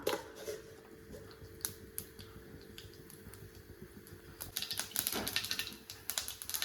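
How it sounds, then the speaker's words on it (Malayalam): Mustard seeds splutter in hot coconut oil in a pan, giving close, sharp crackling pops that start sparse and grow denser and louder toward the end. "ചൂടായ വെളിച്ചെണ്ണയിലേക്ക് കടുക് ചേർക്കാം."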